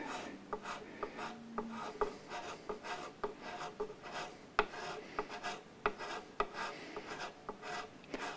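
A flat file rasps back and forth in the nut slot of a Burns Brian May Red Special guitar, a steady series of short, close, quiet strokes in an even rhythm.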